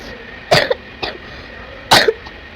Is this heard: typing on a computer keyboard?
no